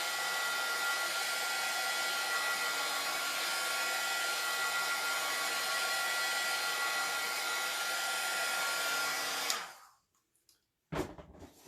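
A heat gun blows hot air in a steady, loud, broadband hiss that runs unbroken for about nine seconds, then switches off and winds down into near silence before a short bump of handling noise.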